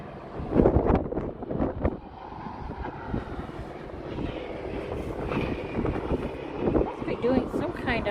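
Cold wind blows outdoors, buffeting the microphone with gusty rumbles under a steady low roar. A person talks close by at the start and again near the end.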